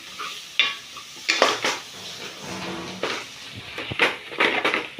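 Boiled potato and carrot pieces being stirred for pav bhaji, with scraping and clinking of a spoon against the pan in irregular bursts alongside a soft sizzle.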